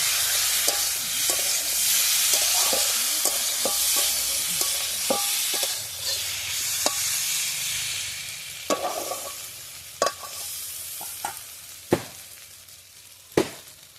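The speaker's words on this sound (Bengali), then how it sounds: "এই মশলার সাথে আলুটা একটু নেড়ে তারপরে এর মধ্যে জল ঢেলে দেবো।" Potatoes frying with spices in a pan hiss steadily while a spoon stirs them, the sizzle fading over time as sharp scraping clicks and knocks against the pan grow more spaced out.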